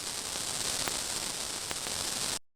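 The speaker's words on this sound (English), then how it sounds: "That's the digital turntable that emulates a vinyl turntable sound." A digital turntable insert effect on a Yamaha MODX M or Montage M synthesizer emulates vinyl record noise: a faint, even hiss with scattered light clicks that stops abruptly at the end.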